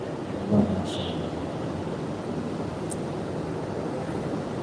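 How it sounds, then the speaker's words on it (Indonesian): Steady rain falls in a continuous, even hiss for the whole stretch, with a low rumble underneath and a couple of faint brief sounds in the distance. "Hujan."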